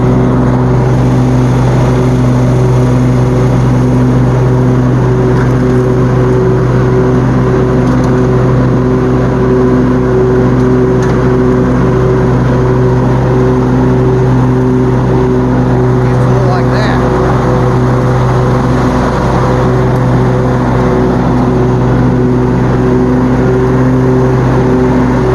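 A lawn mower steadily cuts foot-tall, thick grass in a yard, its engine holding a loud, continuous drone with a strong low hum throughout and no pauses.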